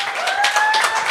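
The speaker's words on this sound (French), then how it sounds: "Applaudissez-la, elle était forte." A studio audience at a comedy talent show claps for a performer in a brief burst of applause, mid-loud, with a faint tonal whine running through it.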